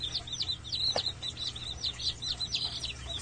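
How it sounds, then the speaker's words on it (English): Baby chicks being released into a coop peep continuously in high, rapid chirps close by, with a steady low hum and soft fluttering underneath. "We're going to release the chickens into their new home."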